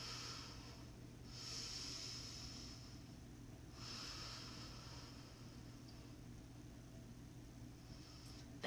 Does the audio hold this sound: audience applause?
no